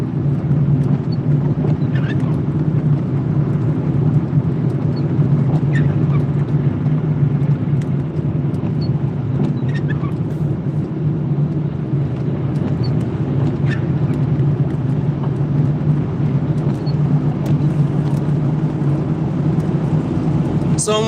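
A car driving on roads between Sipoo and Vantaa, Finland, with a constant loud low engine and road rumble heard from inside the cabin.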